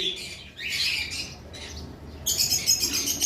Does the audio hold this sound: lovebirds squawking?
yes